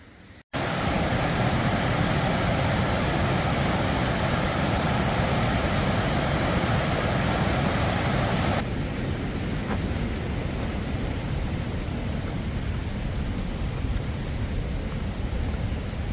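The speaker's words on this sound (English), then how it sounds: "It's incredible to me the sound that the waterfalls make. It's just loud, thundering." A loud, thundering waterfall on a river beside the Appalachian Trail near Pierce Pond, a dense steady roar that continues unbroken, its upper hiss dropping away partway through while the deep rush remains.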